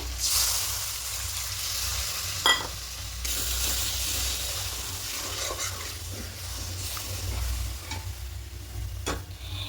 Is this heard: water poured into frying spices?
yes